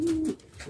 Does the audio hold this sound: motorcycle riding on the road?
no